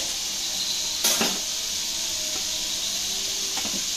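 Disco masala sizzles and fries in a pan with a steady bright hiss, broken by a couple of brief clinks and stirring scrapes of a utensil against the pan.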